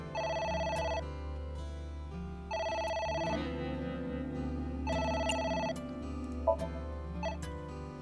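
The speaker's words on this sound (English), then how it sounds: "The phone is ringing." A telephone rings in AI: The Somnium Files, three long electronic bell bursts separated by pauses, clear and alone over a low musical background.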